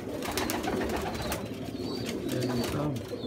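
Pigeons coo close by in a dense, continuous layer of low throaty burbling calls, with a voice talking quietly over them.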